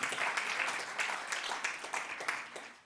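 A church congregation applauds steadily, many hands clapping together in a dense, continuous wash of sound.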